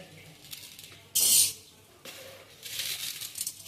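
A sharp burst of hissing and sizzling as sugar goes into a hot wok on a gas stove, followed by a longer rustling hiss, loud and close.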